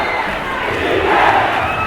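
A crowd at a championship basketball game roars and cheers loudly and steadily, a dense wall of voices swelling slightly midway.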